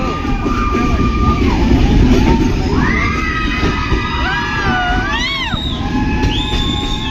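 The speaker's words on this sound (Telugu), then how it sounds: "ట్రైన్ మొత్తం అరుపులే గాయ్స్." A crowd of voices shouts and whoops continuously, echoing over the loud rumble of a moving train passing through a long tunnel on the way to Araku, with some high, rising yells.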